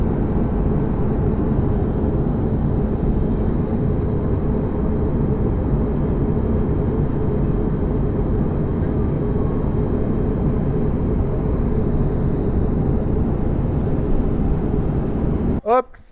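A steady loud airliner cabin drone fills a flight toward Italy, a constant broadband roar that continues unchanged and ends with a brief thump.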